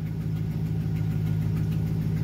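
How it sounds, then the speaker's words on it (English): A Chevrolet Silverado GMT900 pickup truck engine idles steadily with a low, even rumble and a faint ticking, heard close and continuous without any speech. "But there, it's idling just fine. It's not flooding. It's not sputtering."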